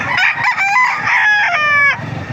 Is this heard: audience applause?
no